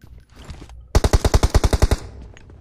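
A rapid burst of about ten automatic gunshots from PUBG Mobile game play, loud and close in an even rhythm, following a quieter stretch of faint game ambience.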